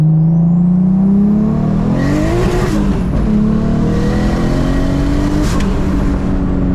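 A turbocharged 1.5JZ-swapped Lexus IS300 making about 600 wheel horsepower revs hard from around 3,000 RPM. The engine drones loudly and climbs in pitch, briefly dips and then pulls up again, heard from close in the cabin.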